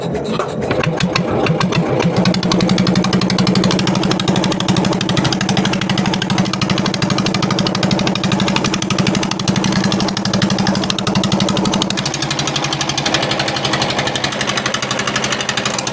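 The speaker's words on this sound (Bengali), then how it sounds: "এই নৌকোর মধ্যে মেশিন লাগানো আছে, আওয়াজ হবে একটা।" Inboard motor of a small wooden fishing boat off Mousuni Island, a loud steady chugging drone with a rapid mechanical knock that runs throughout, close by and dominant.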